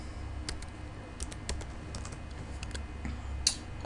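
Rapid, uneven clicking as a password is typed on a laptop computer keyboard, close and fairly quiet, with no one talking.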